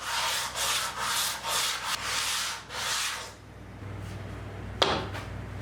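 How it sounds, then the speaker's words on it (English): Hand sanding of wooden folding workbench parts, thinning the links: several rhythmic back-and-forth rasping strokes, close and fairly loud, then a quieter pause and a single brief knock. "I had to sand them a bit more to reduce their thickness"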